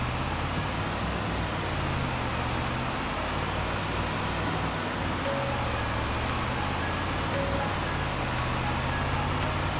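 A truck in Farming Simulator 25 drives across a field with a steady, droning engine rumble and road-like noise, constant and unbroken throughout, with faint ticking now and then.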